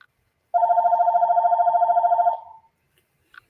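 A home telephone rings once in a quiet room, a steady warbling electronic trill lasting about two seconds before cutting off, followed by silence and a faint click.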